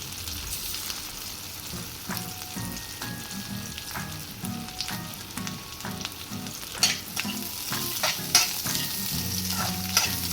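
Green chillies fry in a pan as a Telugu side dish, a dense close sizzle with repeated rhythmic stirring scrapes and a few clinks of the spatula, no voices.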